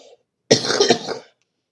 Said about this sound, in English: Ooh, a nasty cough